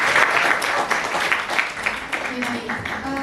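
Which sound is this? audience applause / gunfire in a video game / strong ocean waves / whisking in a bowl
audience applause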